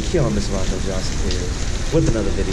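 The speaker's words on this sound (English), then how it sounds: "it's raining again. So yeah, it's actually coming down harder than yesterday" Steady rain falls hard in a continuous hiss while someone talks over it.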